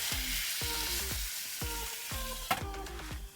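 Sockeye salmon sizzles in a frying pan, a quiet steady fry broken by several short scraping stirs or nudges at a regular pace, with one sharper clatter near the end.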